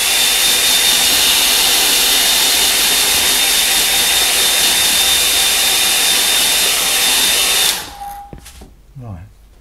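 A hair dryer blows steadily at close range over a watercolour painting, a loud continuous whine and rush that cuts off near the end, leaving faint handling noises.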